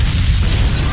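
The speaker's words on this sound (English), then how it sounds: "your house explodes" A loud, close house explosion booms with a dense roar of low rumble and crackling debris filling the whole moment.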